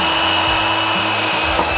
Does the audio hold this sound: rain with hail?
no